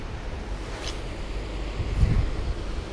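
Water pours steadily out over a small overflow weir at a perch fishing spot with raised water levels, a constant rushing wash buffeted by wind noise, with no talking.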